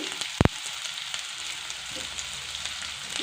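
Cabbage and carrots frying in a pan with salt, a soft steady sizzle broken by a sharp clunk of a spatula stirring near the start, then quiet crackling alone.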